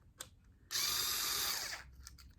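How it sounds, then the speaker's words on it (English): A power screwdriver whirs steadily for about a second, loosening hose clamps on a small quad cart, starting abruptly and winding down, close and loud against a quiet workshop background. "I'm gonna switch my screwdriver to have the head that works with the hose clamps here"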